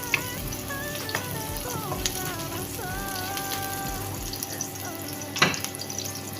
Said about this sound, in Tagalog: Ayan, saute lang natin ang ating onion hanggang